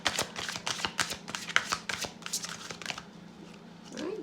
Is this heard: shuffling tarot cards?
yes